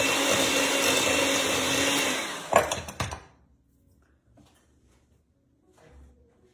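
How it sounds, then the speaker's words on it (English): An electric mixer creams spice cake frosting, a loud steady whir for a couple of seconds that cuts off with a few clunks, leaving near silence. "Just creaming all that together really well."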